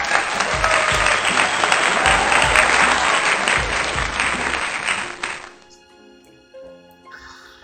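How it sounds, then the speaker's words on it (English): Loud, dense hand-clapping applause that sustains evenly for about five seconds and then cuts off, leaving faint tonal background sound. "Let me get a hand clap for the GOAT, Tom Brady."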